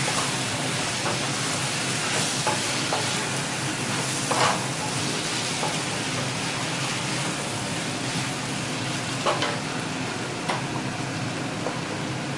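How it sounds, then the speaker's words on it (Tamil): Dried fish tossed into softened tomatoes for Chettinad karuvadu thokku, frying with a steady, dense sizzle throughout, a few louder crackles and stirring scrapes breaking through, no voices. "தக்காளி வதங்கிட்டு தக்காளி வச்சு கருவாடையும் இதில் போட்டுக்குவேன்"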